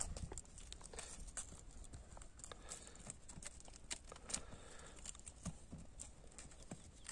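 A horse walks out at a steady pace with a young foal trailing alongside, its hooves clip-clopping in quiet, irregular thuds close by over faint outdoor background noise.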